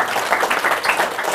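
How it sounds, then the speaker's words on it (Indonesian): A large church congregation at an evangelistic revival gathering in Taman Kencana, West Jakarta, breaks into sustained applause and cheering, a dense steady wash of clapping with voices mixed in, filling the whole short stretch without pause. "Berikan sorak-sorai buat Tuhan Yesus."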